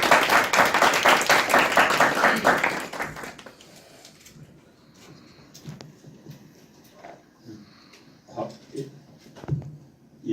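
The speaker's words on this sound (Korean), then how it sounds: "강위원 강사님을 큰 박수로 모시겠습니다" An audience claps loudly to welcome a guest lecturer to a civic politics talk. The dense applause lasts about three seconds, then drops to scattered faint clatter and rustling.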